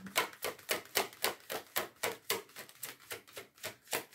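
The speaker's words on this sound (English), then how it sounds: "Give these a quick shuffle." Tarot cards are riffled and shuffled in a quick, even rhythm of about a dozen crisp, papery slaps, soft and close, with no talking.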